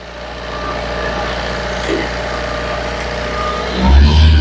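Tata Safari Storm diesel engine idling after an overhaul, a steady low rumble with an even tone that holds throughout and a brief louder surge near the end.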